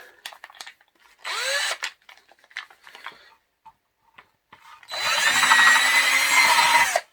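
A power drill whirs in two bursts while drilling a hole in pallet wood, a short one early and a longer steady run at the end, with faint clicks and handling noise between.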